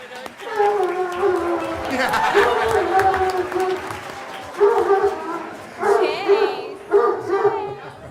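Excited school dogs whimper, yip and bark at an indoor school board meeting, high whining cries in repeated bursts over people talking nearby.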